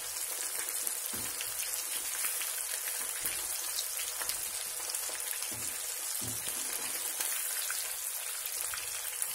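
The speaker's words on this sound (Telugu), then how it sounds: "ఇలాగా నెత్తళ్ళు వేగాయి కదా" Dried fish (nettallu) frying in a pan, a steady close hiss of sizzling oil with soft crackles throughout, without any talk.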